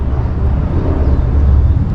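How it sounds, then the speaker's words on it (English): A helicopter passing overhead outdoors near a tent test site, a steady loud low rumble with broadband wash filling the whole moment, no talk over it. "no, the helicopter that's going over."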